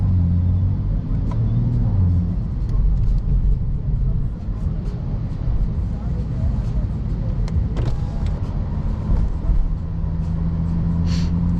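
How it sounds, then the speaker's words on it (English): A modified BMW 435i's engine and intake drone as a steady, heavy low rumble from inside the cabin while driving, holding an even level throughout. "the intake noise on this car is just crazy"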